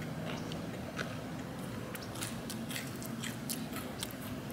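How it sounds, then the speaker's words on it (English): Crunchy bites and steady chewing of Jollibee fried chicken, close and continuous, with a faint low background hum and no talking. "I like that crunch."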